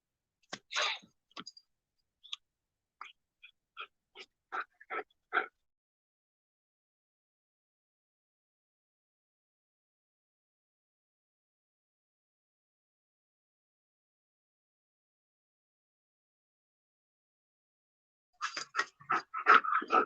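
Dogs playing with a toy, giving short snuffling, panting bursts with sneezy clicks near the start, then a long silence before another cluster of close panting and scuffling at the end.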